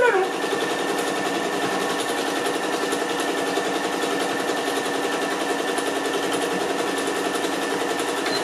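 Sewing machine stitching a fabric beach tote bag, a loud close rapid chatter of the needle running steadily throughout without a break, while someone speaks briefly.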